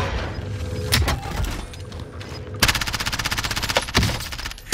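Rapid automatic gunfire from the Warzone video game crackles in bursts, with a long sustained string of shots in the second half over a busy mix of game sounds.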